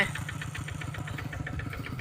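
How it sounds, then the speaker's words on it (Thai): A farm tractor engine idles steadily close by, a rapid even chugging pulse that holds throughout with no talk over it. "รถไถนา"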